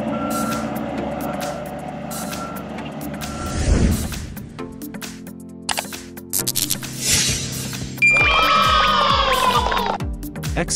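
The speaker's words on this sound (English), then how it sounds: "Dump trucks are often equipped with a large rear tank equipped with a hydraulic system to lift and lower" Dump truck reversing, its backup alarm beeping in a steady repeating rhythm over a rumbling engine, then an air brake hiss and clatter, ending in further loud high-pitched tonal sounds.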